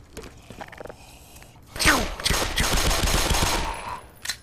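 Automatic gunfire from the video game Black Mesa starts after a quiet stretch. It is a loud, sustained rattling burst lasting about two seconds, followed by a few lighter clicks and scrapes.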